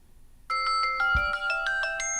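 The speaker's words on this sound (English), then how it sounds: "This is the actual speaker ringing." A Samsung Galaxy Watch 5 Pro rings through its built-in speaker, a bright electronic ringtone of repeating melodic tones that begins abruptly after a short silence and plays steadily and clearly, with no talking.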